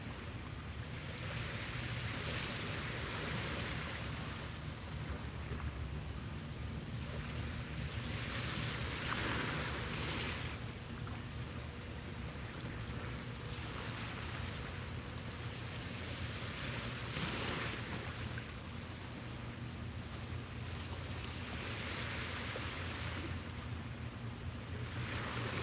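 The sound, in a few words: ocean waves on the beach at sunrise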